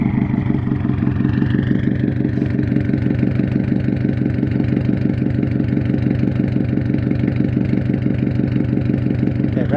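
A Subaru WRX idling with an HKS Hi Power exhaust, a loud, close, rumbling burble that pulses steadily and evenly throughout, with no revving.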